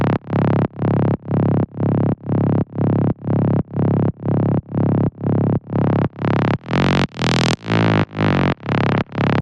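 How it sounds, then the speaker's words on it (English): A dirty, distorted saw-wave synth bass line for an electronic dance track, drenched in reverb with lows and highs rolled off, pumping in steady repeated notes that swell brighter and grittier toward the end, loud and alone. "It's a real dirty saw wave"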